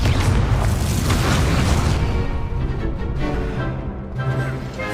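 A Confringo blast spell in the Hogwarts Legacy video game, a loud booming burst that rolls into a rumbling decay over several seconds, with no talking.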